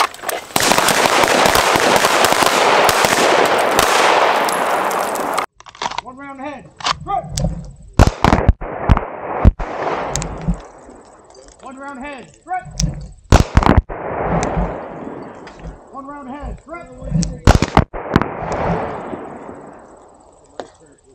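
Rapid gunfire at an outdoor shooting range during a Green Beret range day, loud sharp reports in bursts and single shots with echoes, mixed with shouted commands and voices between volleys.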